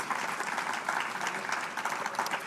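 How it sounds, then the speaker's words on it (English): Steady applause from an audience at an Anaheim Veterans Day ceremony, dense and continuous throughout, with faint voices mixed in. "Let's give them a round of applause."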